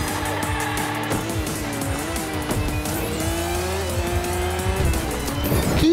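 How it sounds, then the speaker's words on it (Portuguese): A car drifting in a Hot Wheels racing game, with a loud engine whine that rises and falls over sustained tire squeal and skidding, and repeated gear shifts throughout. "Você vem na bola e você larga o drift, sacou?"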